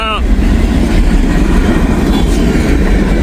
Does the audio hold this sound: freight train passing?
yes